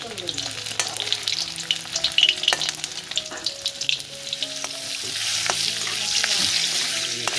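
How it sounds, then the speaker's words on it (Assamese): Boiled potatoes fry in hot oil with a crackling, popping sizzle and scattered utensil clinks and scrapes, growing into a steadier hiss toward the end; no talk. "আলুখিনি এটা ধুনীয়াকৈ কম ভাজি ল'ম"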